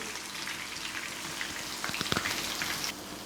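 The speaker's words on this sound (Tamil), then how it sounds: "நம்ம கொஞ்சம் கொஞ்சமாக சேர்த்து அப்படியே பொரித்து எடுத்துடலாம்." Soya chunks (meal maker) deep frying in hot oil give a steady crackling sizzle like rain, with a brief burst of louder bubbling popping partway through.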